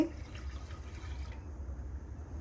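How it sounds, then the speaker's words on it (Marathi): Water is poured into a pressure cooker being readied to cook peeled raw mango, a soft steady trickle and splash heard close up and fairly quiet. "कुकरमध्ये पाणी टाकते"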